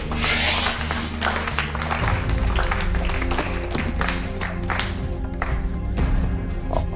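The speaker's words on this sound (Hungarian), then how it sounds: "Taps erőssége az pontosan tükrözte a helyzetet." Studio audience on a Hungarian deal-or-no-deal style game show breaks into dense, continuous applause and clapping, loud and sustained throughout, with background music tones running underneath and no talk over it.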